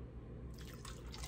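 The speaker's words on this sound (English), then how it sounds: "Let me put that splash of amaretto." A splash of amaretto is poured into carrots cooking with orange juice and brown sugar, heard as a brief, close liquid drip and pour.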